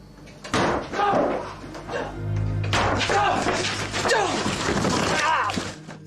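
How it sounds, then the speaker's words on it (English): A prop cupboard door in a basement is forced open, producing loud bangs and thuds with a rattling slam, while a voice speaks throughout. "the door to the prop cupboard opens once more, this time with a lot more force"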